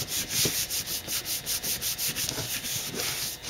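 A hand rubs firmly back and forth over a surface in quick, regular strokes, a close, steady scratchy swishing with no talking.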